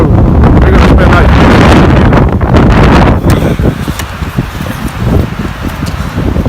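Strong wind in a winter windstorm at a bushcraft camp beside a Polish military lavvu tent roars and buffets loudly against the microphone, gusting hard at first and then easing into rougher, fluttering blasts.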